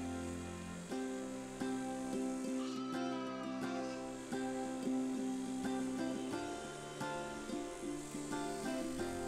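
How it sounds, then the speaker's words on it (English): Newly shorn sheep and their lambs on Shetland bleat repeatedly, with several overlapping calls carrying steadily across the open hills at moderate volume. "I love to watch newly shorn, dazzling white sheep reunite with their lambs and head off to the hills again"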